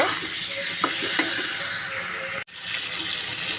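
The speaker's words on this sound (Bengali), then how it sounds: "এভাবে দুই মিনিট ভেজে নেব" Continuous crackling sizzle of food frying in a hot pan, close and loud, with a brief clatter of stirring and a short dropout.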